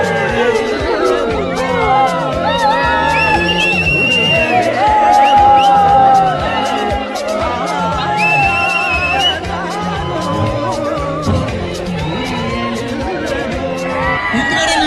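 A large crowd at a game challenge event cheers and chatters continuously, with whoops and shouts rising over a busy babble of voices.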